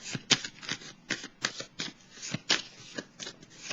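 Tarot cards are shuffled and laid down in a steady run of crisp riffling flicks and soft slaps, close and fairly loud, with no voice over them.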